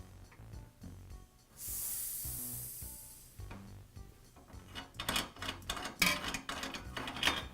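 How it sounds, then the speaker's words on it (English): A Coleman lantern's fuel tank hisses steadily for a couple of seconds as the filler cap is loosened, followed by soft clicks and handling noises of the cap and metal tank. "If the tank is pressurized, unscrew it a bit and then give the tank a second to depressurize."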